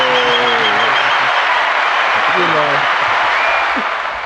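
Dense crowd applause and cheering fills the clip, steady and loud throughout, with some voices calling out over it.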